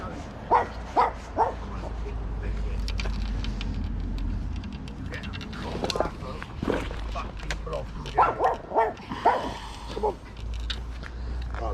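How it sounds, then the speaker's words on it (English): A small dog yaps in quick, sharp bursts at a distance beside the River Thames, mixed with people talking and a low rumbling background. "Smallest dog in the world, causing the biggest noise."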